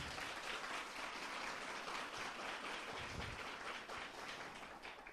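A lecture audience at a religious talk on the Ark of the Covenant breaks into a sustained round of applause, a continuous soft wash of clapping heard from some distance.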